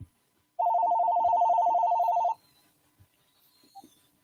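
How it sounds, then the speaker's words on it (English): A telephone rings with a single steady electronic trill lasting nearly two seconds, clear and close, followed by quiet room noise. "I'm getting a phone call here."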